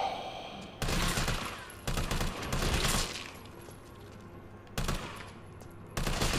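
Gunfire from the Resident Evil 3 Remake video game: several loud bursts of shots, one just before the first second and more around two to three seconds, near five seconds and after six, broken by quieter stretches of ambience between them.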